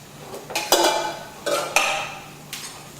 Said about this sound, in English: just stir the hominy in